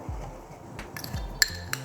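A spoon clinks against a pot while seasoning is added to Madura beef soto: a few scattered light metallic taps and clinks, with one sharper ring, close by over quiet kitchen background.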